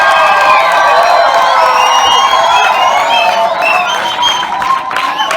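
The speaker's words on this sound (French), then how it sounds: "Applaudissez pour eux." Crowd at an official school exam launch ceremony in Songololo applauding and cheering, with sustained clapping, whoops and shouts that stay loud and dense before easing slightly near the end.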